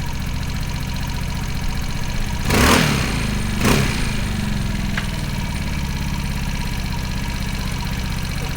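A 2010 Vespa GTS 300 scooter idles up close with a steady, throbbing engine putter, broken by two brief whooshing blips of throttle early on before settling back to an even idle.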